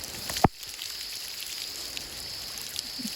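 Rain falls steadily on a concrete slab pour at an outdoor construction site, a continuous close hiss of drops with one sharp knock near the start and a few faint splashes later.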